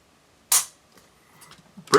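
A Tisas Night Stalker 1911 pistol is dry-fired on a tabletop, giving one sharp metallic click, a few faint small mechanical ticks, then a second crisp snap of the action near the end.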